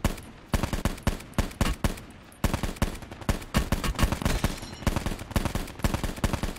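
Gunfire in a military shooter video game: rapid bursts of automatic rifle shots in quick rhythmic volleys, sharp and close, with a short gap partway through before firing resumes, no voices.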